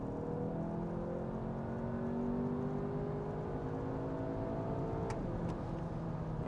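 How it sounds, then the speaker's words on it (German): A 2.0 VW Passat Alltrack in third gear at full throttle, its engine note climbing steadily from low revs toward the rev limiter, a continuous rising drone heard from inside the car, moderately loud. "Und Vollgas. Jetzt lassen wir bis Drehzahlbegrenzer dran."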